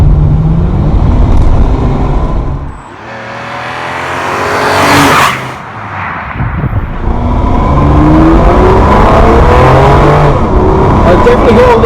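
An inexpensive used Ferrari revs hard and drives past, its loud engine rising and falling through gear changes, with a brief dip and a tire squeal; a voice talks over parts of it.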